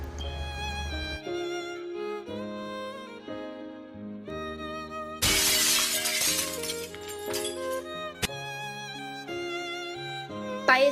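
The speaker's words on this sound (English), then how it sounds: "What if we decide to shatter the mirror?" Mirror glass shattering as a sound effect, a loud bright crash bursting midway through sustained musical tones, with a sharp clink just after and the music continuing around it.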